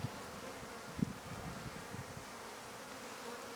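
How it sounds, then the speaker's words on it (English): Honeybees buzz in a low, continuous hum close by during a hive inspection, with a few faint handling bumps. "There's a lot of young bees on there."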